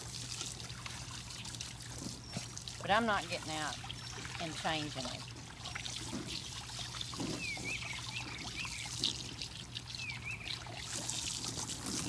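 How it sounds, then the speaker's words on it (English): Hose water trickling and splashing while a swimming pool is cleaned, a continuous soft pouring stream running under someone talking, with a faint steady hum in the background. "I kind of didn't judge my water stream properly"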